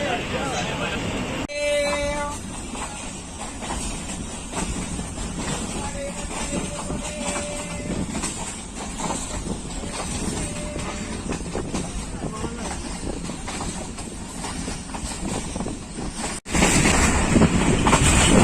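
An Allama Iqbal Express train gives a short whistle toot at departure, followed by a long rumbling roll of moving carriages with wind buffeting, ending in a louder surge of noise; someone talks over it.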